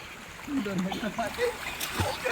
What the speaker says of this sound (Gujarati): હાલ અમે સ્વિમિંગ કરી રહ્યા છીએ